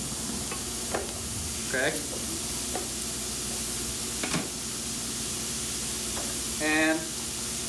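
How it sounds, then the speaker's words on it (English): Pineapple and jalapeno sauteing in a frying pan give a steady close sizzle broken by brief stirring scrapes, with a short spoken word partway through. "Sizzle, which reminds you of frying. You know, you're sauteing in a fried pan kind of a thing."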